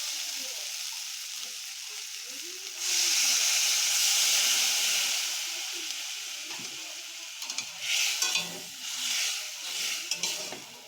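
Water poured into a pan of sautéed ridge gourd and potato curry, a sharp hissing burst of steam that eases into a softer sizzle, followed by a few stirring and pan sounds, close and moderately loud.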